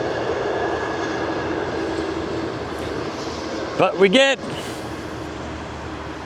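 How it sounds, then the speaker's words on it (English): A passenger or freight train rolls through a campus area in DingHu, China, with a steady rumble and rail noise throughout, then a loud horn blares in a short burst near the middle before the rumble carries on, with a voice speaking briefly. "oh, that's a loud horn"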